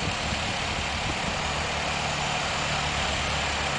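A 1923 Ford Model T's engine runs steadily at a low, rumbling idle-like pace, close and continuous with no talk over it.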